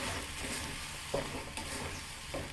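A vermicelli mixture with saffron water and rose water is stirred in a pan over low heat, giving a steady soft sizzle with a few faint scraping strokes.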